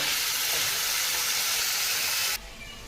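Halved onion frying in a pan for a Bengali potato-onion fry, a loud steady sizzle and hiss filling the pan that cuts off abruptly near the end, with no talking.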